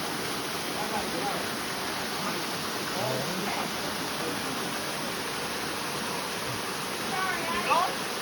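Wolf Creek Falls in Banning State Park pours with a constant broadband rush of falling water, moderately distant and unbroken throughout, with faint brief sounds near the end.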